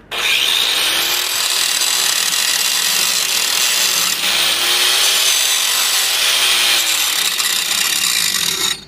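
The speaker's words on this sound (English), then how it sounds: "That's where grinder comes in handy. Grind it accordingly to how you like it." An angle grinder works down a humped 6010/7010 weld bead on pipe in a 6G downhill setup, giving a loud, continuous abrasive whine. The pitch dips and recovers several times as pressure on the grinder changes.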